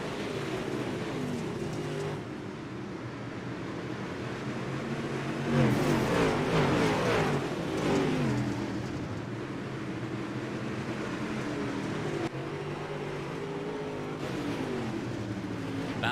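Dirt late model race car engines in iRacing roar together at a steady drone, swelling as the pack revs up under green, loud and continuous with no talking.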